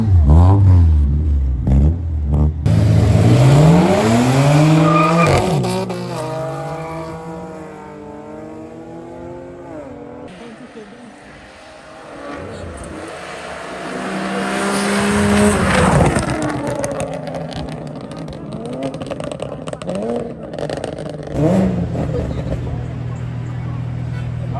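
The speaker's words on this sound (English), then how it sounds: "BMW Mark X at the starting line." A BMW Mark X and other race cars at a drag-strip starting line rev hard, with rising and falling engine whines and a tire squeal. The sound is loud and close, and voices speak over parts of it.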